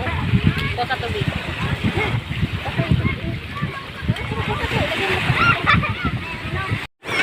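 Geese or ducks honk by the water amid sloshing and splashing, with people talking nearby over the steady outdoor noise.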